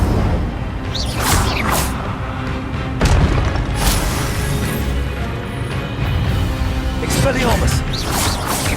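Fire spell blasts from Hogwarts Legacy gameplay, several loud bursting whooshes and booms repeating across a dense, busy game mix with music and effects throughout.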